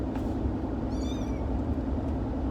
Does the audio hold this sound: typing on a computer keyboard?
no